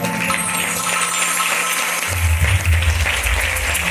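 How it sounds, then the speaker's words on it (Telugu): Steady crowd applause at a Christian Christmas gathering fills the clip, dense clapping throughout with a low rumble building in the second half; no talking. "చప్పట్లు తో."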